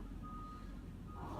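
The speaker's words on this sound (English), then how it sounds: "this Fresh Direct truck coming right by" A Fresh Direct delivery truck passing close on a city street, its reversing alarm beeping steadily over a loud, constant rumble of traffic and engine.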